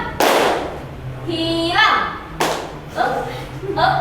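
Schoolchildren clap together during a classroom clapping game: two sharp, loud bursts of group clapping about two seconds apart, with a voice speaking between and after them.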